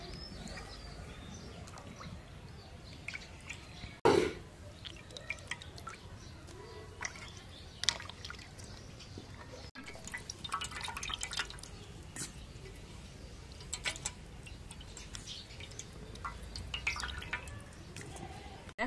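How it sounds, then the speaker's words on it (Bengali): Sea fish being washed in water in a home kitchen, with soft drips and splashes, a sharper splash near the start and faint birdsong in the background. "এখন মাছ ধোয়া হয়ে গেছে"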